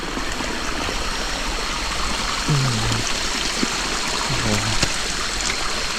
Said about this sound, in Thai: ฝั่งนี้ก็มีน้ำตกลงมาอีกเหมือนกันนะครับผม แต่เป็นไม่ใหญ่เนาะนะครับ